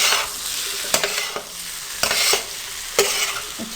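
Pulao with chilli, salt, turmeric, pulao masala and lemon juice is stirred and mixed on a hot tawa: a soft continuous sizzle broken by sharp, regular scraping strokes of a spatula against the metal, close up, with no talking.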